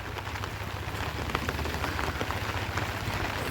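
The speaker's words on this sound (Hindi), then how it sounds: "It's been raining from morning, from the time we have left home." Steady monsoon rain pouring down at a resort in Karjat, a dense, continuous patter of drops on surfaces, loud and close with no voices.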